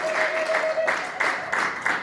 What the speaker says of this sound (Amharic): አጨብጭቡና እግዚአብሔር አመስግኑ።